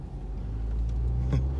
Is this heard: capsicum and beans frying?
no